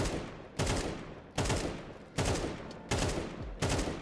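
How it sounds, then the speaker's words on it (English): Rapid automatic rifle fire in a first-person shooter, aimed at a wall while strafing left and right, comes in five loud bursts, each separated by a short pause, close and unaccompanied by voices. "moving from left to right and shooting at the wall and trying to have the counter-strafe and shooting motion as dialed as possible"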